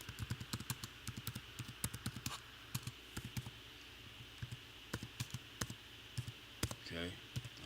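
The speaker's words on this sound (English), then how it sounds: "Let me type it in." Fingers type on a computer keyboard in quick, uneven bursts of sharp clicks with brief pauses between runs, close and fairly crisp over a low room hum.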